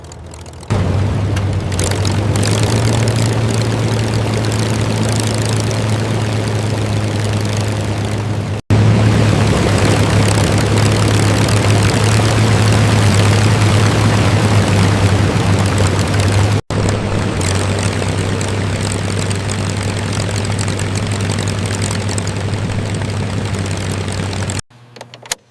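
A WWII P-51 Mustang, salvaged from the sea and restored, runs steadily on the ground with a loud, continuous low engine drone and propeller roar, holding constant throughout with only brief dropouts.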